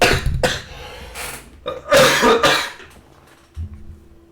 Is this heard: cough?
yes